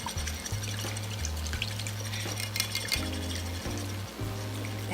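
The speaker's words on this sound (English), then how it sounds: "just whisk all of that together" Clinking whisk strokes in a bowl of liquid smoke and oil marinade, with a wet swishing and tapping in quick uneven rhythm, close and steady under a low hum.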